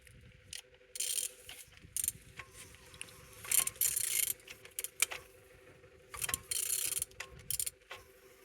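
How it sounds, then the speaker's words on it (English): An 11J13 engine is turned over by hand, giving irregular mechanical ratcheting and clicking bursts with brief pauses between them, fairly close and with no one talking. "Engine is turning good."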